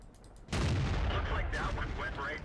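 Tank cannon fire in World of Tanks: one loud, close boom with a rumbling tail, followed by someone speaking over the fading echo.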